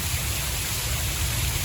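Heavy rain pours down steadily during a gusty Florida thunderstorm, a dense, even hiss of water beating on surfaces with no breaks and no voices.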